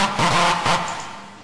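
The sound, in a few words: big room house drop made in FL Studio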